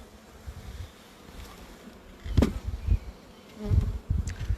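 Honey bees buzz around their hive outdoors, with several individual insects passing close in short, rising and falling drones over faint background air.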